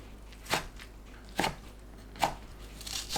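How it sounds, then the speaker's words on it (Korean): A knife chopping red chard stems and leaves on a cutting board, three separate crisp chops spaced about a second apart, fairly quiet and with no voices. "줄기는 2cm, 잎은 1cm 너비로 썰어주세요."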